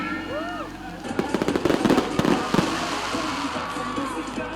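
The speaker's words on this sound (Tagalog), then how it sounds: "Giubanan sab kini og grand fireworks display." Grand fireworks display at the Miss Isulan 2025 festivities, with a quick cluster of sharp bangs and crackles bursting over a constant crowd murmur, and faint whistling rises heard just before the blasts.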